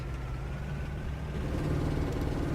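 Simulated 182 hp Magirus Deutz truck engine in Euro Truck Simulator 2, hauling a heavy 44-tonne trailer uphill: a steady, loud low-pitched drone at high revs that swells slightly toward the end, with no talking.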